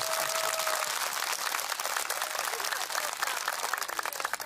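Congregation clapping at an outdoor autumn parish picnic Mass, a dense, steady patter of many hands lasting several seconds at moderate distance, with a faint voice mixed in at the start.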